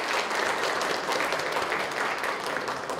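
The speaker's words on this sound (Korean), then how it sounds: "열심히 하는 데서 박수 한번 부탁드리겠습니다" Sustained, dense applause from a crowded audience at a Rotary club founding and charter ceremony, even and steady throughout with no voices over it.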